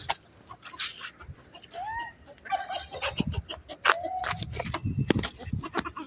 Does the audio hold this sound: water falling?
no